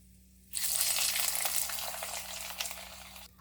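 Cashews and almonds roasting in a pan for raw papaya halwa make a sudden, loud sizzle that starts abruptly, holds steadily for a few seconds, then cuts off.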